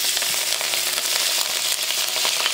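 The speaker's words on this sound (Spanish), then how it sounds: "Ya teniendo ya listo todos nuestros ingredientes picadito, chiquito, vamos a proceder a freír." Finely chopped ingredients for an aderezo sofrito base, made for Venezuelan pabellón criollo, fry in hot oil with a dense, continuous close-up sizzle and crackle and no voices.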